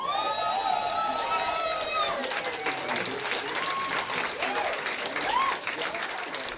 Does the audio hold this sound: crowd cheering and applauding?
yes